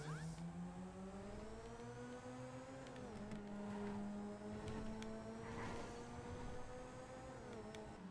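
A modded car engine in GTA 5 roars at high speed, a sustained droning whine that shifts pitch as it revs and changes gear, loud and steady throughout.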